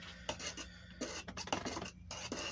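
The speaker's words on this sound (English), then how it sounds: "I'm gonna stir it with this screwdriver because that's what I've got." Screwdriver stirring bathtub refinishing coating in its container, a close, steady series of scraping, rubbing strokes with brief pauses, heard alone.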